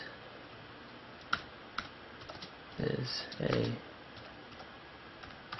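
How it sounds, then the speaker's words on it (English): A few quiet, scattered key taps on a keyboard connected to an iPhone running OS 4.0, with a brief burst of clicks midway and someone speaking softly. "And to actually type using that keyboard, it's pretty straightforward."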